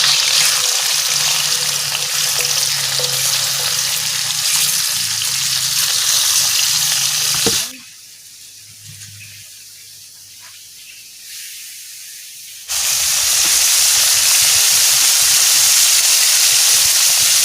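Eel pieces hit hot oil in a pan with a loud, steady hissing sizzle that drops away for several seconds mid-clip, then surges back to full strength.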